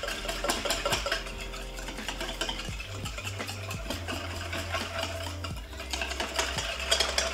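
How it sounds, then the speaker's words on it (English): A sauce with tamari soy sauce is whisked in a bowl, a quick clinking scrape repeating in close, busy bursts with no voices over it. "Last step, we're just gonna whisk this up."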